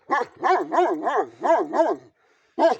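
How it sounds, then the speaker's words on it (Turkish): Dogs on a winter morning bark in a quick run of about six loud, close barks, then a short silence and one more bark. "Köpeklerimi yedireceğim."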